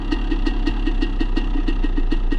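An engine idles with a rapid, even chugging pulse over a low steady rumble, close and fairly loud.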